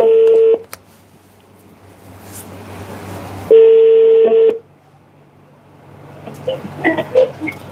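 Telephone call being placed: a steady two-tone dialing or ringback tone sounds alone for about half a second, then repeats for about a second after a quiet gap, followed by faint clicks and beeps.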